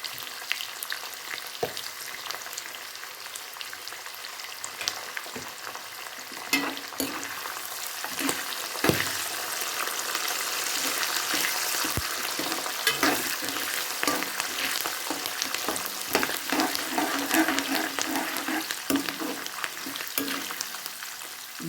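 Curry leaves fry in hot oil for North Karnataka garlic mandakki, a steady close sizzle and crackle that swells in the middle, with spoon stirring and scraping against the pan throughout and no talk.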